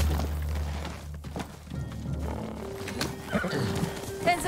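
Horses neigh and gallop in the video game Ghost of Tsushima as Mongols attack Kidafure Village; hooves and thumps mix with battle noise and a sharp whinny near the end.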